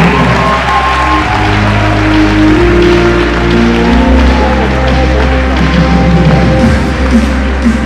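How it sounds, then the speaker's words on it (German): Audience applause at the Vienna Comic-Con cosplay contest for a Brotherhood of Steel Paladin costume, a loud dense wash of crowd clapping over a steady low hum, sustained throughout. "Applaus jedenfalls für Mattia von Brazen & Gold Production als Brotherhood of Steel Paladin"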